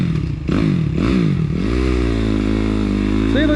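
A Suzuki RM-Z 250 dirt bike engine runs up close, loud and steady with rising revs and a rough clattering idle, while people talk briefly over it.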